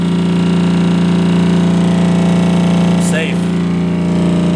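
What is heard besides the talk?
Hypervibe vibration plate motor running at 28 hertz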